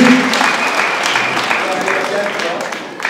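An audience at a church awards ceremony for well-performing pupils in Kisii, Kenya applauds, a loud continuous clatter of many hands clapping with a voice speaking over it.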